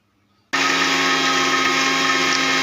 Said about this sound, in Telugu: ఇది మిక్సీ పట్టాలి.